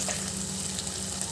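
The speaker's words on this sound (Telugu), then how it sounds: "ఇప్పుడు చూడండి, ఇలా నేను బాగా ఫ్రై చేసుకుంటాను." Grated coconut masala sizzles steadily in a pan, a soft continuous frying hiss with a faint low hum and a brief clink near the end.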